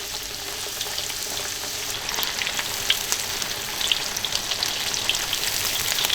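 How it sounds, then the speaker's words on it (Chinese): Chicken pieces deep-frying in hot oil, three pieces at once, give a steady, dense crackling sizzle with scattered louder pops, close and continuous throughout with no talking. "炸的同时给它翻面。"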